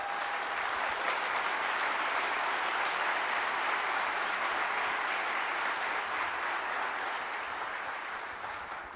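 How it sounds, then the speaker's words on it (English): Sustained applause from a large audience honoring military veterans at an equitable AI event, a dense, steady wash of clapping that holds at full strength for the whole stretch and only starts to ease at the very end, with no talking over it. "Give them a round of applause"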